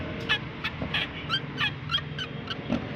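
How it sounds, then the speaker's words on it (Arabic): A car's suspension squeaks as the car is rocked up and down, making repeated short, high-pitched creaks in an uneven rhythm, close and moderately loud over a low background hum. "لما انا جيت وقفت وهزيت العربيه فوق وتحت، التزييق مسمعه جامد جدا"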